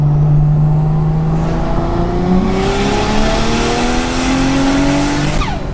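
A Toyota Chaser JZX100 with a JZ engine accelerating hard through the gears, a loud close engine note rising steadily and holding, with a brief shift near the end.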